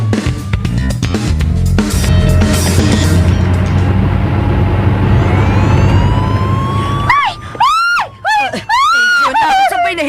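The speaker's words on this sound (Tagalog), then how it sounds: "Nakalarga na ang ambulansya!" Ambulance siren wailing loudly and close in a dramatized radio scene, rising sweeps over a busy background, then sharp rapid yelp cycles in the last seconds; people shout and talk excitedly around it.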